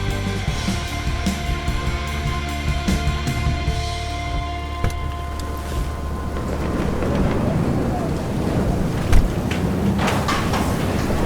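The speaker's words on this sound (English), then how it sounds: "A big, unnatural-looking storm, frankly." Thunderstorm with rain in the video game Life Is Strange, a steady wash of rain with rumbling thunder building alongside fading music tones, loud and continuous.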